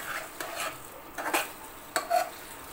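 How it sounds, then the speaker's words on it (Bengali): Chicken curry with onion stalks being stirred in a pan, soft sizzling under several distinct scraping strokes and light clinks of the spoon against metal. "পেঁয়াজ কলিটা দিয়ে মাংসের সঙ্গে নেড়ে চেড়ে আমি মিলিয়ে নিব"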